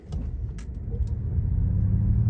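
A Ford Mustang Mach-E electric crossover accelerates hard from a standstill in unbridled drive mode, giving a low, steady rumble of road and motor noise that builds gradually, with a faint whine and no engine roar.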